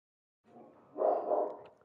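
A pet dog barks at something outside, heard from a distance within a quiet room as a short burst of muffled, low barking that swells briefly and then fades.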